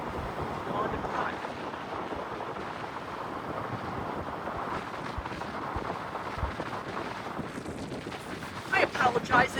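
Wind on a windy day outdoors at a former air force base, a steady rough low rumble across the mic, moderately loud with no break.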